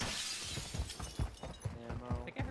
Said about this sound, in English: I think I heard broken glass